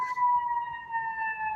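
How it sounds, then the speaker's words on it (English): An emergency siren sounds outside with a steady, sustained wail that holds a clear tone across the whole moment, moderately loud and unbroken, with no talk over it. "Whose siren is that?"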